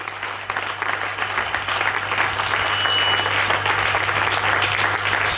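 Church congregation applauding, a dense sustained wash of clapping that swells and holds steady, with a low hum underneath.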